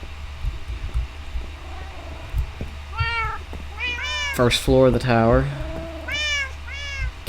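Several Minecraft cats meow in a bright, repeated run, with a cluster of close, overlapping mews in the middle and more near the end, over a low background hum and someone speaking briefly.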